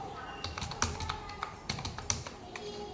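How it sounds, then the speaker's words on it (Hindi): Typing on a computer keyboard to enter a company name into accounting software, with a run of light, irregular key taps at close range. "कंपनी नेम में हम कल्पना इंडस्ट्री टाइप करेंगे"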